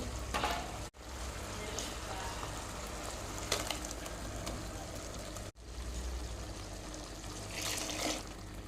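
Masala paste frying together with cooked chicken in a pan, making chicken saaru: a steady, close sizzle runs throughout, broken by two brief pauses and occasional stirring scrapes.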